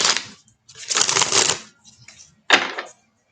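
Quick riffling bursts of tarot cards being shuffled, three clustered rounds of crisp papery flutters separated by short pauses, close by with no talking.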